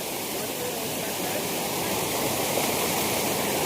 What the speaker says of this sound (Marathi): आता जस्ट धबधब्याच्या बाजूला आलोय.